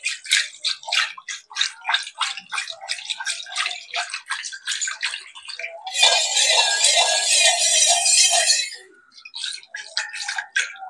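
Yogurt is whisked with water in a bowl, a fast run of wet, rhythmic beating strokes, broken by a stretch of splashy churning before the quick strokes resume.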